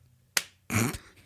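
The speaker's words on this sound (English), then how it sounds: "Golf clap." A lone, soft golf clap: one short, quiet smack, then a brief muffled thump, in an otherwise quiet room.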